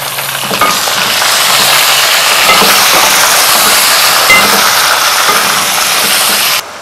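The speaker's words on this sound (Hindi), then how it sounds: "अच्छा, चिकन को मैं भून रही हूँ।" Boneless chicken pieces frying in a pan with onions give a loud, steady sizzle that continues evenly for several seconds and then cuts off abruptly.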